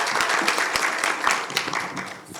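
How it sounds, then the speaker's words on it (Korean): Audience clapping to welcome a guest arriving at a construction safety panel discussion, moderate and steady at first, then thinning toward the end. "박수로 맞이해 주십시오"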